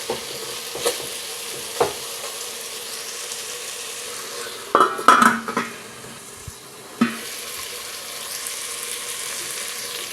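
Four boiled eggs fried in egg biryani masala in a pan, a low continuous sizzle with a louder burst of crackling and stirring midway and a few brief clinks against the pan.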